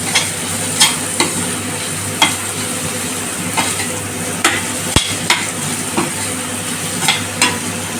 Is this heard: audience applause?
no